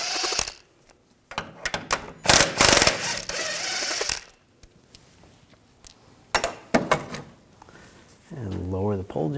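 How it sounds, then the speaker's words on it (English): A ratchet with a 13mm socket backs out the lower shock bolts on a 2007-2013 BMW 328i, giving close bursts of rapid clicking and mechanical clatter with pauses between them and a brief whine near the end. "Using a 13mm socket,"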